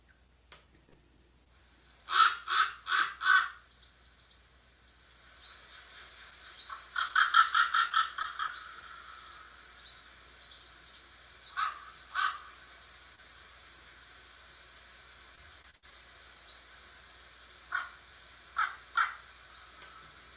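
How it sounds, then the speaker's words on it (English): A raven gives deep, guttural caws in several separate bursts of two to four calls, loud and clear over a quiet background with long pauses between groups. "they have a deep kind of guttural caw, a little deeper than the crow, and they're less chatty"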